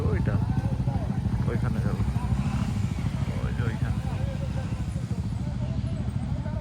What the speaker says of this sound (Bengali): আর আমাদের বাইক আসছে কিছু ওই যে এখানে আরও বাইক আসতেছে